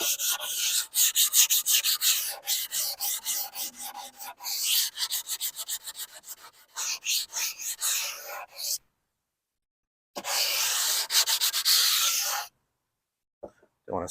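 A cork sanding block rasps across a wooden board with a freshly routed roundover edge in rapid back-and-forth strokes, pausing in two silent gaps before one more burst of sanding.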